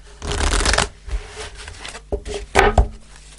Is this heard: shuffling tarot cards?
yes